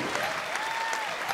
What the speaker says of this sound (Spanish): un aplauso para ella, la antitóxica